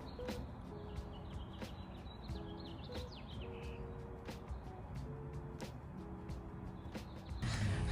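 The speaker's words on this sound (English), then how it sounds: "Do you hear all the birds?" Birds chirp and twitter outdoors in a steady ambient chorus, with short high calls repeating across the scene over low background rumble, all at a faint, distant level.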